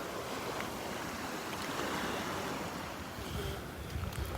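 Waves wash onto the beach at Delnor-Wiggins in a continuous, steady rush of surf, with wind buffeting the microphone throughout and no talking.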